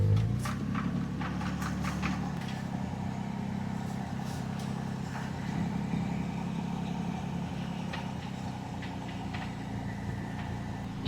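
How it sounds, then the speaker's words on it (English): A 1980 BMW 528i six-cylinder engine idles with a misfire, a steady low rumble running unbroken and fairly close for the whole stretch, with no talk over it. "we got that misfire still, so she's running a little. I don't think she's running perfect on all 6 right now"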